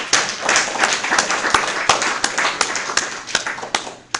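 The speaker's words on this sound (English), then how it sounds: "let's give Jay a big round of applause." An audience applauds at a business meeting, with loud, uneven individual claps that come sharp and close and are spread across the room, continuing without talk.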